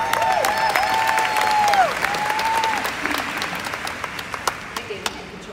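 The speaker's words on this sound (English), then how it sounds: "give yourselves a big round of applause for it" Audience applause at a Monations United 2018 speech, a dense crowd clapping that fades toward the end, leaving a few sharper scattered claps, with a sustained tone drifting over the top.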